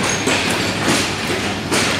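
A passenger express train from Karachi moving through Lahore railway station in poor weather, a steady loud rumble of rail cars with rhythmic clatter and occasional thuds throughout.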